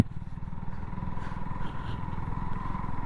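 A motorcycle labours up a dusty slope on a long-distance ride, its engine a low, throbbing rumble that pulses steadily and stays fairly close throughout.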